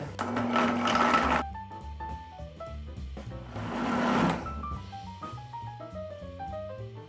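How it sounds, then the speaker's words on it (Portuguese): A blender runs at high speed mixing a coconut ice cream base in two loud whirring bursts, with music playing throughout. "Vou tampar e vou bater por 3 minutos na velocidade alta."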